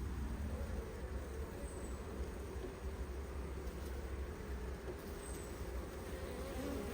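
Honey bees swarm around a hive, where a new queen is being introduced, making a dense, steady buzz with no pauses for the whole stretch. It is moderately loud and close, and no one speaks.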